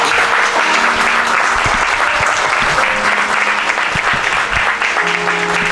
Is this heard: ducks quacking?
no